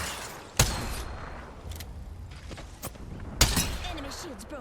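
Gunfire in the battle-royale shooter Apex Legends during competitive play: two sharp shots ring out a few seconds apart, with lighter clatter and game noise in between.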